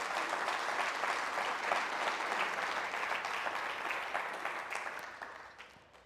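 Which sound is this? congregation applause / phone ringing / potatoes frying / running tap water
congregation applause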